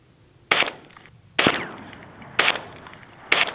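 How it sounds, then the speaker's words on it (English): Four sharp .22 LR rifle shots strike a cinderblock outdoors, spaced about a second apart, each a loud crack with a short ringing tail and faint background hiss between. "10 shots over there. He fired the same time I did."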